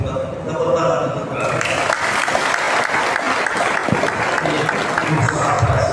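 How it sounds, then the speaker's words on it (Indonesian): A crowd claps and cheers loudly for several seconds, the applause swelling after a brief moment of voices. "Gus Abbas, tepuk tangan untuk"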